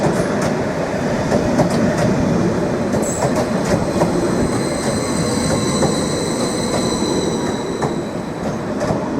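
Class 755 FLIRT units pulling into platform 2 at Norwich station, a steady loud rumble of wheels with high squealing brakes and faint clicks as the train rolls in, continuous throughout.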